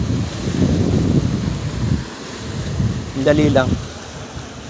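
Pacific ocean waves wash in a steady roar mixed with wind buffeting the microphone, and a brief spoken voice rises over them.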